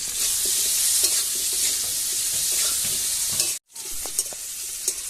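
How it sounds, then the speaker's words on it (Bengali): Potato pieces fry in a pan of oil with a little salt and turmeric, a loud, steady close sizzle with stirring scrapes, a brief cut-out near the end, then the frying resumes, no voices. "আমি আলুটা একটু ভেজে নিচ্ছি"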